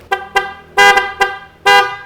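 A motorcycle horn beeps five times in short, uneven bursts, the middle and last blasts longer and louder, with quiet gaps between them; the motorcycle has an ECU fault and the horn works only when switched on.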